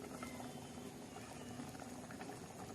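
A pan of dill leaf vegetable curry, made with peanuts, garlic and green chilies, bubbles at a steady, soft boil, close by and quiet, with no talking.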